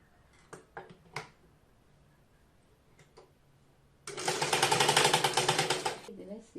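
A sewing machine stitches fabric for a readymade nighty: a few taps first, then a loud, steady, fast mechanical whirr of stitching for about two seconds before it stops.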